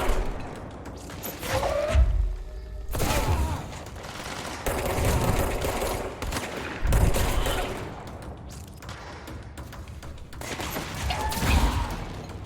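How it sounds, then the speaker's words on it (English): Repeated bursts of gunfire in the video game Control, loud shots and thuds clustered in volleys across the scene with brief lulls between them, while a player speaks briefly over the action. "Where are they shooting from?"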